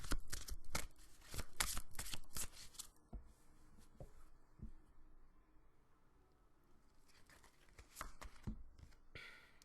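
A deck of oracle cards being shuffled and a single card drawn, producing crisp riffling flutters at the start and again near the end with softer handling in between, close and quiet with no talk.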